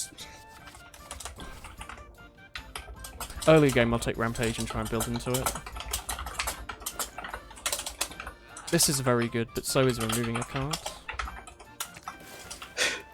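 Fast, uneven clicking of computer keyboard keys runs throughout the clip, with someone talking over it about a Slay the Spire card game.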